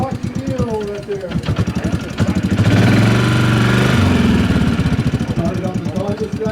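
A Kawasaki Mule utility vehicle idles and revs at a farm estate auction, its engine chugging loud and close, with people talking over it.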